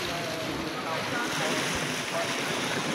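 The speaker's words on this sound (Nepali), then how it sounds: "यतापट्टि नै समुद्र छ।" Sea waves wash onto Ajman Beach at night in a steady, close surf rumble mixed with gusty wind buffeting the microphone.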